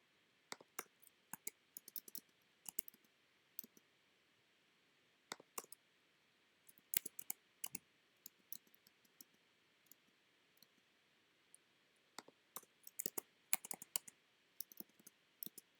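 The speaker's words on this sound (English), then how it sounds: "all I'm doing is using my spacebar tab key and hitting the return" Computer keyboard typing while laying out a poem in InDesign, mostly spacebar, tab and return presses: sparse, irregular clicks and clacks, some in quick bursts, close and fairly quiet with no talk.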